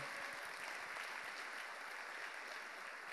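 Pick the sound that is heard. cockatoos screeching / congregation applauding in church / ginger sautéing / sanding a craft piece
congregation applauding in church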